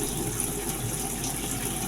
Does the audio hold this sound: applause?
no